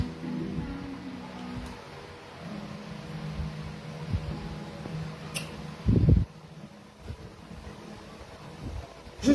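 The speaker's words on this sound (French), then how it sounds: "j'ai mis le ventilateur, maman." An electric fan runs indoors on a hot day, giving a steady low whirring hum with a few bumps and handling knocks, fairly close and with no talk over it.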